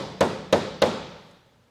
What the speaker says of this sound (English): When you're nailing your recess edge, make sure that you come down at least 50mm from the end and 12mm in from the side